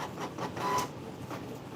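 A printer feeds an envelope through, producing a steady, close mechanical whirring and rubbing hum that swells briefly partway through.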